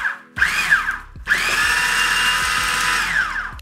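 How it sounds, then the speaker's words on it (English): A blender blitzes vegan sausage mix of tofu and plant yogurt in two close, whining bursts: a brief pulse, then a longer steady run of about two seconds that winds down at the end. "I'm just going to blitz it again until it resembles sausage meat."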